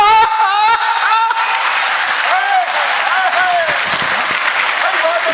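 Audience applause at a Hindi kavi sammelan poetry event, a dense sustained burst of clapping from a large crowd, loud and continuous, with a voice speaking over it at the start.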